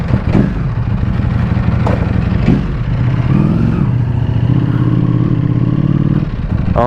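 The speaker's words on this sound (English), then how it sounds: "it's not a quiet bike. Stock form is definitely not quiet." Stock Ducati Panigale V4S ridden at night, its loud engine burbling and revving through gear changes with clattery mechanical noise and steady wind rush, heard close up from the rider's position.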